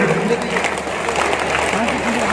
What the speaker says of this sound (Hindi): जितनी अधिक बार हम तालियां बजा सके हमें बजानी चाहिए